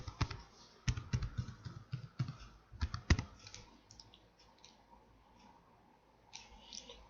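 Account number typed on a computer keyboard, with quick bursts of sharp clicking keystrokes and short pauses between them, close and fairly quiet, fading to sparse taps toward the end.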